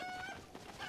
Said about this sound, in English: Let's go, chicken.